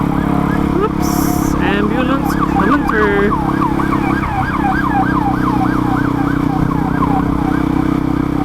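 An ambulance siren wails in a steady, rising-and-falling cycle through most of the clip, loud and close, with a few short squawks and tones before it and a dense hum of traffic underneath.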